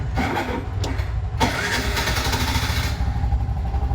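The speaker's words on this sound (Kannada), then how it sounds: "ನೋಡಿ ಗಾಡಿನ ಸ್ಟಾರ್ಟ್ ಆಗಿಬಿಡ್ತು ಇವಾಗ." Bajaj BS6 motorcycle engine cranking and catching, then settling into a steady running idle, loud and close with no talk.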